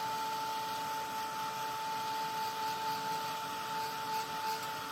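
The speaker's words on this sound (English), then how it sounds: "I just have my Ranger Heat It craft tool" A Ranger Heat It craft heat tool blowing over chocolate to dry it: a constant, close whirring blower hiss with a thin steady whine, unbroken throughout and without talking.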